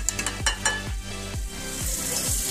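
Steady loud sizzling of food frying in a pan, with repeated scraping strokes of a utensil stirring through it, close up and without voices.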